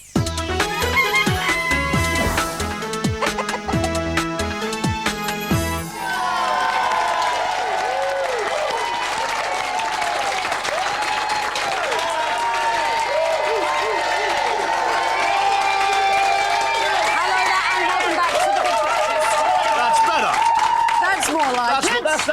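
A studio audience on a breakfast TV show breaks into loud, sustained applause and cheering after a short stretch of music, the clapping steady and dense throughout.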